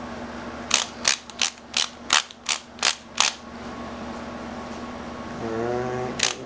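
A wrench tightens a motorcycle fork bolt during a fork seal replacement, giving about eight sharp, evenly spaced ratchet clicks up close, then a brief hum and one last click.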